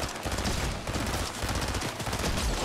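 Fortnite Battle Royale shotgun fire from a gold pump shotgun amid dense gunfire, a busy stream of shots and impacts packed together throughout at moderate level, without voices.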